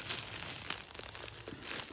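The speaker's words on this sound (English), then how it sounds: "I don't like this plastic bag." Plastic bag crinkling close to the microphone, a continuous rustle with small crackling peaks over a couple of seconds, no talking, in a horse stable setting.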